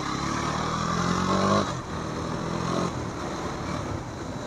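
A KTM Duke 250 motorcycle runs at steady speed on a dry road, its engine drone constant and fairly loud with a brief dip mid-ride, wind and road noise blending in throughout.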